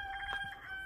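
Rooster crowing near a flock of hens, a short bright call standing out over soft clucking and a steady high background tone.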